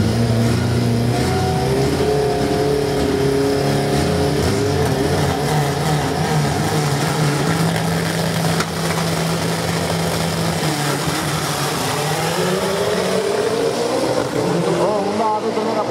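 Turbo drag race cars at the Velopark strip in a Copa Brasil round roar loudly and continuously, engines revving and rising in pitch as they launch, with an announcer's voice under the noise.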